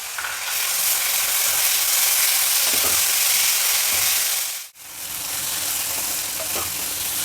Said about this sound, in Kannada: ಈರುಳ್ಳಿ ಟೊಮೆಟೊ ಎಲ್ಲ ಚೆನ್ನಾಗಿ ಫ್ರೈ ಆಗಿದೆ